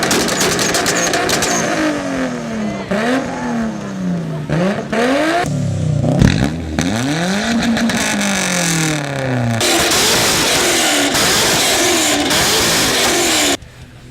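A stock car with its mufflers cut off revs loudly in repeated sharp bursts that rise and fall, raw and close, with brief gaps between pulls.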